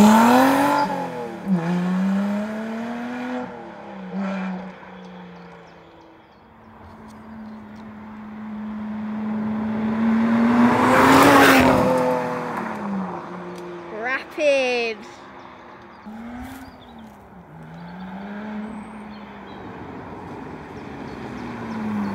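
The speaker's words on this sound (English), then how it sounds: "we'll give you a little taste now of what the thing sounds like and how it goes anyway" A Lotus Exige S engine and exhaust under way, rising and falling through repeated revs and gear changes, with a loud surge of acceleration midway; close and prominent throughout.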